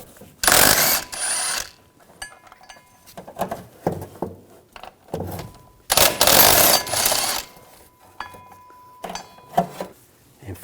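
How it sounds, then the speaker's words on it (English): Ratchet fitted with an 18mm socket loosening driveshaft coupler bolts on a 2007-2013 BMW X5, loud bursts of rapid pawl clicking near the mic, separated by quieter handling clinks. "I'm going to take these bolts out using an 18mm socket."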